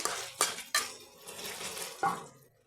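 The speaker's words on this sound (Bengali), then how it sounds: "ওই পাত্রটা ধুয়ে জলটা দিয়ে দিচ্ছি এতে অনেক মশলা লেগেছিলো" A metal pot being rinsed and its spice water tipped into a cauliflower and fish curry, with a few sharp clanks of metal against metal between soft sloshing, quiet and close.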